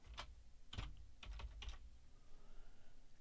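Several quiet, close keystrokes on a computer keyboard, clustered in a brief irregular burst of typing followed by near-silence.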